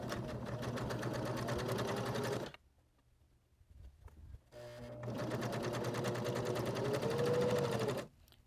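Two bursts of fast, steady stitching come from a sewing machine joining a quarter-inch seam on a pieced Santa Christmas ornament. Each run lasts a few seconds, and a short quiet gap separates them.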